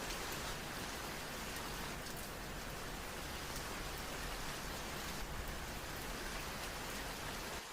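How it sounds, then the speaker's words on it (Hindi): Steady rain falling on waterlogged, flooded farm fields in a Hindi animated story, a continuous even hiss with no breaks, no voices. "पता नहीं ये बारिश कब बंद होगी।"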